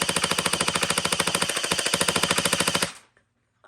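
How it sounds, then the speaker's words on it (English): A Gel Blaster Surge fires gel balls past the camera in sustained automatic fire, a rapid even stream of close, loud mechanical shots lasting about three seconds before stopping abruptly. "I'm going to fire past the camera a few times first and then put a few over my chronograph."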